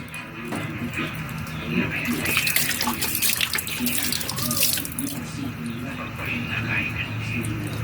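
Duck eggs are washed one at a time under a steady stream of running tap water, splashing continuously and fairly loud, with a voice talking over it.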